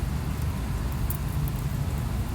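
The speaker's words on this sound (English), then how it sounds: "now it is beginning to rain. It is sprinkling" Light rain sprinkles outdoors, giving a soft, even hiss of drops that stays steady and close throughout, with no talking.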